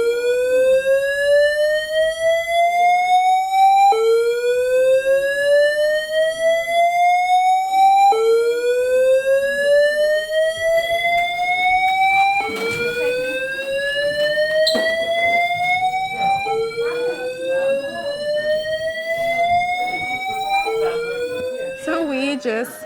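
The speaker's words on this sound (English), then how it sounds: "So we just had the fire alarms go off." A hospital fire alarm wails in repeated rising sweeps, each cycle climbing in pitch for about four seconds before restarting, loud and persistent throughout with faint background activity.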